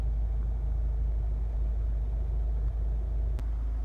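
A Honda CR-V 1.6 i-DTEC diesel engine idles with the car stationary, giving a steady low rumble and even mechanical chatter that holds constant throughout, heard close with no talk over it.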